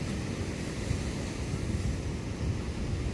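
Ocean surf rumbles continuously with churning low wash and wind buffeting the microphone, steady and close.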